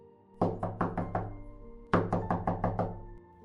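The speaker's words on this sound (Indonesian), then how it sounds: "ia lalu mengetuk pintu" Knuckles rapping on the wooden door of a grandmother's house in a Little Red Riding Hood story, two close, crisp bursts of about five quick knocks each, separated by a short pause.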